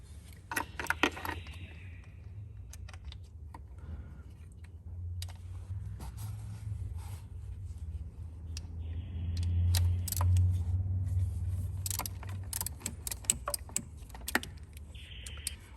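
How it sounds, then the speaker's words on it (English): Faint metallic clicks and clinks of a long 10mm socket on an extension working loose intake manifold bolts on a Ford Ranger/Everest/Mazda BT50 3.2 diesel, scattered in short bursts over a low steady hum. "Now I'm using a long 10mm socket with a extension."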